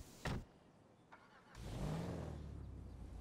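An old Camaro in GTA V starts up after a couple of clicks, then its engine settles into a close, rumbling idle and rev that runs to the end.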